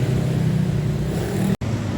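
A Yamaha Mio M3 scooter engine, just reassembled after a valve fault, runs with a steady, close, low buzzing drone, broken by a momentary dropout near the end.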